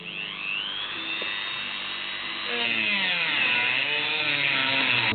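A small rotary tool cuts a slot into the head of an old, stuck screw on an office chair being reupholstered, a steady high whine that deepens and roughens halfway through as the cutting wheel bites into the metal.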